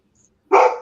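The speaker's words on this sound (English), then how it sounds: "Dog barking." A dog named Buffy lets out a single loud, close bark after near silence.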